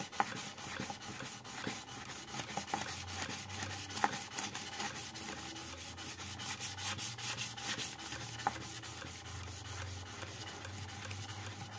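A wood chisel is rubbed back and forth on sandpaper during sharpening, giving a steady, close, rhythmic scraping of repeated strokes, with no voices.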